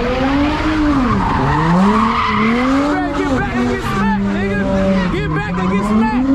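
Ford Mustang tires squeal and skid continuously as the car spins donuts, a loud wavering screech with engine roar close by, while people shout in the background.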